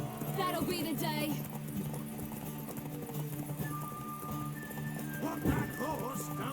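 In The Witcher 3, a horse whinnies while hooves clip-clop, blended into game music and ambience, with character voices talking throughout.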